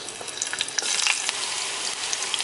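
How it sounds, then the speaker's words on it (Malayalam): Mustard seeds and shallots frying in hot oil, a dense steady sizzle with scattered sharp pops and crackles rising in intensity partway through, close and continuous with no talk. "എണ്ണ ചൂടായിട്ടുണ്ട്. ഇതിലേക്ക് കടുക് ഇടാം. ഇനി ഇതിലേക്ക് ചുവന്നുള്ളി ഇടാം."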